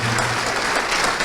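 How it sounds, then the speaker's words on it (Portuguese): Church congregation applauding together in a sustained, dense burst of clapping that fills the whole moment, loud and close with no voices on top. "Vamos aplaudir então."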